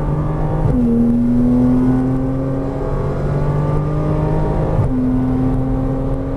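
Porsche Cayman R engine on a racetrack, loud and close, holding steady revs with a rising pitch through a long pull, a brief dip and shift near the end, then climbing again under continuous engine roar.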